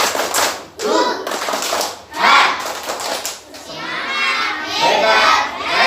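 A primary school class performs a rhythmic spirit clap, bursts of patterned clapping in groups alternating with children shouting the chant in unison, loud and close, the sequence repeating several times.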